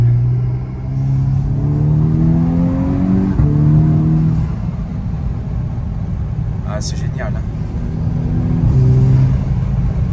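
A 330 hp VW Golf VI R engine revs and accelerates with a deep, rumbling exhaust, the pitch climbing through gears, while a person talks briefly over the steady roar.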